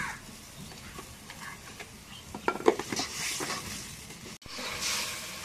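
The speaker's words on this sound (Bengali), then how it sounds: "মশলা এখন কষানি হচ্ছে" Turmeric, garlic paste, cumin paste and onion paste stir-fried together in a pan, with steady faint sizzling under a scraping spatula and a few sharp clinks of metal on the pan, close and continuous.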